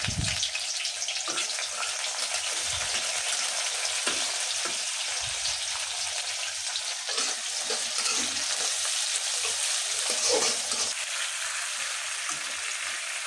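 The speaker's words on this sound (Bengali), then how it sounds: "এটাকে বড়া ভাজবো, খেসারির ডালের বড়া" Khesari dal fritters (bora) frying in a pan, a steady close sizzle and crackle of oil running throughout with faint stirring scrapes, no talk.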